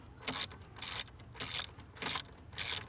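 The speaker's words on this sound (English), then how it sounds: "You just get your socket and loosen it." A socket ratchet loosens a 10mm bolt holding the battery of a 2018 Chrysler Pacifica, giving five evenly spaced bursts of close, crisp ratcheting clicks over about three seconds with no talking.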